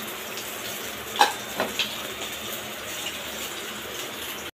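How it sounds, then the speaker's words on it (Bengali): Fish pieces frying in a pan in a home kitchen, a soft steady sizzle with a few brief clinks and stirring knocks, no talk. "মাছ ভাজা চলছে"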